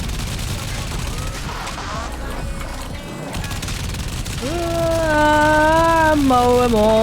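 Arch-gun machine gun fire in the Warframe video game rattles in a dense, continuous burst of rapid shots under game effects, with tonal sweeps rising and gliding in the second half.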